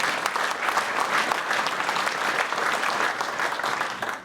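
An audience at a general assembly of a French dairy producers' federation breaks into loud, dense applause, many hands clapping steadily and evenly for a few seconds before tapering at the end.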